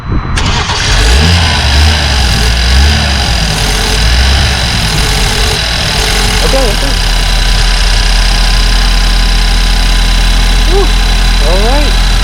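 A BMW F30 328i engine cranks and catches, then revs and settles into a loud, close idle, with a person talking over the running engine.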